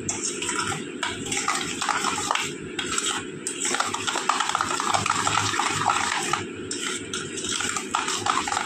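Batter for a palm cake being mixed in a bowl, with steady scraping and clinking of a utensil against the dish, close and continuous with small pauses.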